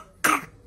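A single short, sharp cough from a child, close and loud, standing alone with nothing else around it.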